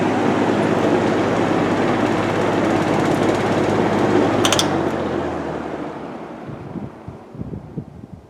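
Old electric fan running on high speed, a loud, steady whooshing rush with a faint rattle, close to the microphone, winding down and fading near the end.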